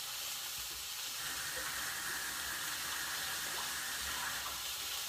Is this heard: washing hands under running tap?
yes